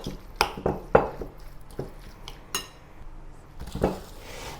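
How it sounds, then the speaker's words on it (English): Beancurd skin roll filling of bamboo shoots, cloud fungus and mushroom slapped down into a bowl again and again, making a string of dull thuds and clinks against the bowl. The first few come fast, then they space out. "I leave up the stuffing and smash it back down to the bowl repeatedly"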